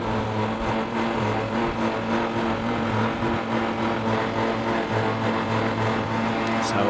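Land Rover LR3 electric winch winding out its line under tension, a steady mid-pitched motor whir and hum with a rumbling undertone that holds constant throughout, no talking.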